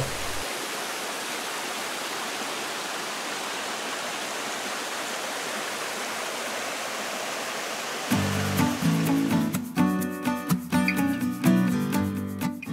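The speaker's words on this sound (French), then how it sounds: "petite chute en cascade dans le sous-bois de la forêt." A small waterfall cascading through forest undergrowth gives a steady, even rush of falling water. Partway through, a loud low thumping and rattling noise breaks in over the flow.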